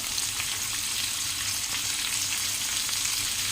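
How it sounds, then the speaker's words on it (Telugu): Bitter gourd pieces frying in a pan hiss in a loud, constant sizzle while they are stirred together. "ముక్కలన్నీ బాగా కలిసేలా కలుపుకోవాలి."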